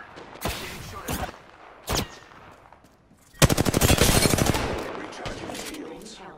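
Gunfire in Apex Legends comes as a few scattered sharp shots followed by a long rapid automatic burst from a Volt SMG, loud and close, with a voice talking briefly.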